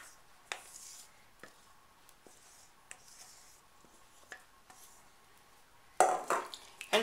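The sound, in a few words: stirring melted white chocolate into egg yolk and milk mixture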